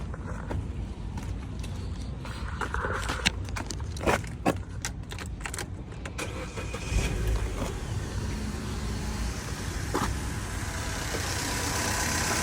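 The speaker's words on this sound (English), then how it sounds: "Yeah, the engine sounds clean, sounds pretty good." A Vauxhall Corsa engine starts and runs steadily in a broad mechanical rumble, with some clicks and knocks early on before it settles into a continuous idle.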